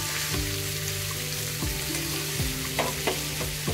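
Stuffed bangda (mackerel) filled with spice paste frying in a pan, set upright to cook the filled side: a loud continuous sizzle with repeated sharp pops and crackles, under a low steady background hum.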